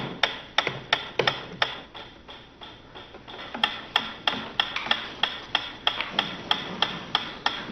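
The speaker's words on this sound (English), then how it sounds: "A ticking metronome." A metronome ticks crisply and evenly, about three clicks per second, close and clear against a quiet background.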